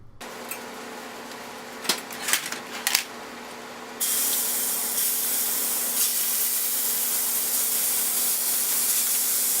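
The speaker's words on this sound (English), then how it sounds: "I heated up a wok and put some butter spray in it" Butter spray hisses into a hot wok: a steady hiss starts a few seconds in and continues loud and even, after a few short clatters and clicks at the start.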